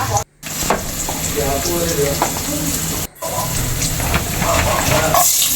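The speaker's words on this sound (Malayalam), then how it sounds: "നെയ്യ് ഒഴിച്ചിട്ടുണ്ട് അതിലേക്ക് അണ്ടിപ്പരിപ്പ് ഇട്ട് കൊടുക്കാം" Cashews crackle and sizzle in hot ghee, a busy frying hiss with stirring clinks, briefly cut off twice.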